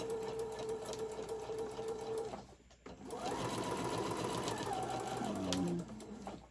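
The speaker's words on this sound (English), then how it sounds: "I'm going to just sew a seam underneath, and then this one I'm going to sew it on top" A Singer Modern Quilter sewing machine runs a seam on tote bag trim, a close steady whirring drone that pauses briefly midway and then resumes, with no talking.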